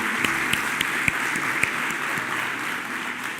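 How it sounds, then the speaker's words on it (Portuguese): A church congregation claps during a service, a loud, dense burst of applause close by, with a few sharp individual claps and a faint hum beneath it. "Vamos aplaudir a Deus pela vida dele"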